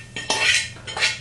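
Tuna scrambled egg is scraped from a pan onto a plate, two loud close scraping strokes of utensil against metal and dish.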